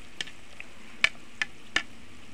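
Pieces of savory baklava frying in hot oil at home: a quiet bed of hiss broken by a handful of sharp crackling pops spaced irregularly, close and fairly soft.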